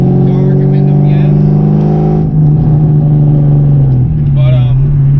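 A Ford Mustang with a Borla exhaust and off-road X-pipe idles loud and close, a deep steady burble that dips and swells slightly midway, with a faint voice briefly heard.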